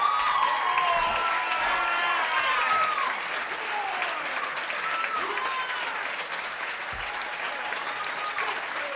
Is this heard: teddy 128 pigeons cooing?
no